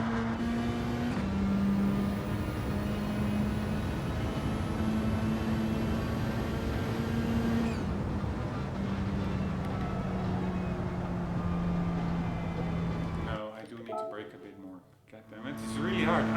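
A race car engine in Gran Turismo 7 revving and droning steadily at high pitch, holding a long sustained note, then cutting briefly before picking back up, heard close and loud with a voice talking over it.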